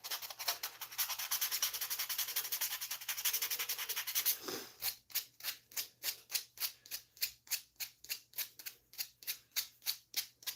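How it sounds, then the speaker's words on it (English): A belt sander with an 80 grit belt runs against a wood turning, first a continuous abrasive rasping, then a rhythmic series of about a dozen regular rubbing strokes, close and fairly quiet. "I'm gonna take away some of those scratches. That's like an 80 grit belt on there."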